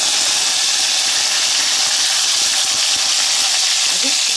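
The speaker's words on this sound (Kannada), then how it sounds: "ಇವಾಗ ಕಾದಿದೆ. ಇದಕ್ಕೆ 1 ಸ್ಪೂನು ಜೀರಿಗೆ, ಹಾಗೆ" Cumin seeds and curry leaves hit hot oil for a hotel-style vegetable saagu, producing a loud, dense, continuous sizzle and crackle that fills the whole stretch.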